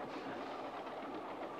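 Train rolling on rails aboard the Avalanche Express, a steady wash of rumble and rail noise at low volume with no voices.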